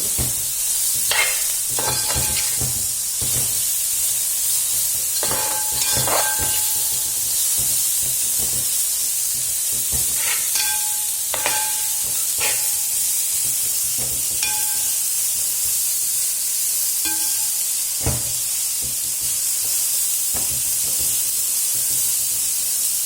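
Cabbage stir-frying in a pan on a gas stove for noodles, a steady hiss of sizzling with repeated scrapes and clinks of a spatula stirring, close and continuous with no talk.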